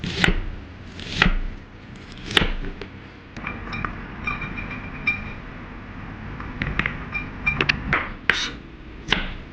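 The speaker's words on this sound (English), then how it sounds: "Slice an onion and loosen the onion rings" A knife slices an onion on a cutting board, giving sharp, irregular chopping knocks, some louder and some softer, spread over several seconds.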